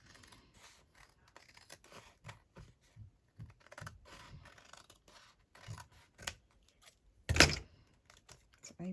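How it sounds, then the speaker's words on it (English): Scissors snipping recycled junk mail paper, a series of small crisp cuts and paper rustles, close and fairly quiet, with one louder snip near the end. "So all I have to do is snip a little bit off across the top here,"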